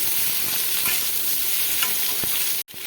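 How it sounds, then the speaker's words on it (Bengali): Potatoes frying with onion in a pan over a medium flame, a dense continuous sizzle with occasional stirring scrapes, close and steady, cutting off abruptly at the end. "মিডিয়াম ফ্লেমে রেখে এটাকে পেঁয়াজের সঙ্গে আলুটাকে আমি ভাজতে থাকবো"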